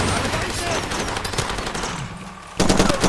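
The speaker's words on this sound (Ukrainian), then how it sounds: "І то чудово, що хоч кулемет я випробував." A machine gun fires in the video game Far Cry 2, a loud close burst of rapid rattling shots, a brief pause, then another sharp burst.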